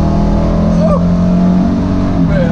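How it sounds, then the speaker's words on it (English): A loud engine rumbles and burbles nearby with a deep, lopey idle, and a faint voice shows through under it. "it sound like a flat foot dragster sitting out there"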